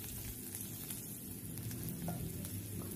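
Garlic frying in hot oil with five-spice (panch phoron) in a Bengali kitchen gives a continuous, soft, steady sizzle with a faint crackle, close up and alone.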